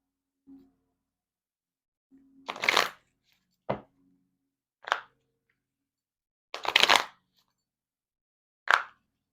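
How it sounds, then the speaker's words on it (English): Tarot cards are shuffled and moved about on a table in several short, separate bursts of slapping and sliding, close and fairly crisp, with silence between them. "I'm sorry, I have to move the cards."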